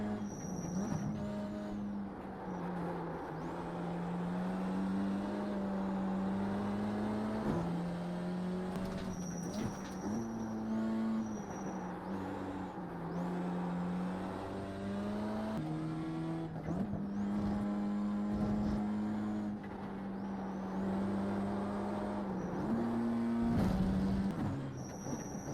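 A BMW race car laps Oschersleben in the iRacing sim, its engine droning steadily with repeated rises and drops in pitch through gear changes and braking zones, close and continuous with no talk over it.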